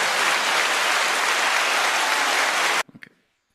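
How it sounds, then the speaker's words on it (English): Audience applause, a loud, close, steady wash of clapping that stops abruptly, leaving a few scattered claps and then silence. "How about a round of applause?"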